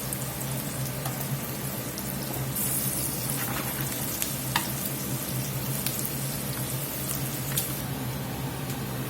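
Gravy for poutine bubbling and sizzling steadily in a pan as it reduces, a dense continuous crackle with occasional sharper pops and scrapes, close and fairly loud, with no voices.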